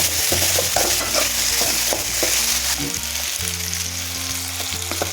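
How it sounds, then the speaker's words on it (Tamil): Potato stir-fry tossed in generous hot oil, a loud continuous sizzle close by with a steady run of clacking spatula strokes against the pan, no voices. "நல்லா கை விடாமல் கிளறிட்டே இருக்கணும் இது கொஞ்சம் தாராளமாகவே ஆயில் விட்டுக்கணும்"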